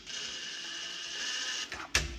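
A cordless drill drives screws at low speed while an electrical panel is replaced, a steady close whirring hum that ends with a sharp clunk as the screw seats.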